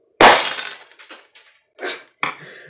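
Thick light bulb glass shatters with one sharp, loud crash, then fragments scatter in a few fainter clinks and tinkles across a hard surface, close and without voices.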